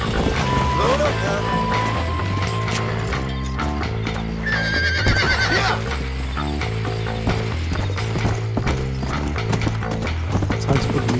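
A horse whinnies and its hooves clip-clop in the Red Dead Redemption 2 video game, the neigh rising over loud game music and mechanical ratcheting, with a player's voice speaking briefly.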